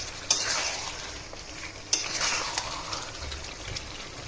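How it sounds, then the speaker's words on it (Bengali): Potatoes and mutton stir-fry in a pan for a dry kosha curry, with a soft, steady sizzle broken by two sharp clinks of a utensil against the pan and gentle scraping. No voices are heard. "আলুটা দিয়ে ভালো করে কষিয়ে নিব।"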